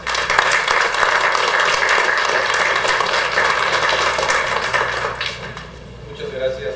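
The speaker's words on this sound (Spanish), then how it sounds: "para quien pido un fuerte aplauso" At a law congress, an audience claps steadily for a speaker about to give a talk, a thick even roar of hands that starts to thin and fade near the end.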